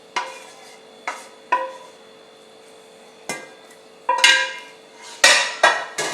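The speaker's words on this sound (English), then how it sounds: "you make sure you scrape all of that out because that's where all your flavour is" A spoon scrapes a pan of sun-dried tomato, bacon and basil pasta sauce into a serving bowl, sounding as a series of sharp metallic scrapes and clinks, roughly seven scattered strokes, fairly close and clear with no talking.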